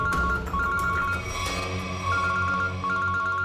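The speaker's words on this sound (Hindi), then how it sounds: "एसीपी सर का फोन।" A phone rings with a repeating electronic two-tone trill in short bursts over a dramatic music bed in a police drama scene.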